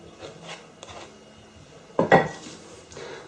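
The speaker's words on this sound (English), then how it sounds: "Just scrape the spoon." A spoon scraping the last of a chocolate cake mixture out of a bowl: a faint rub, then one louder scraping clink close by near the end, with no talk.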